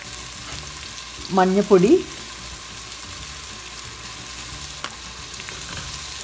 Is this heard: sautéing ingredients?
yes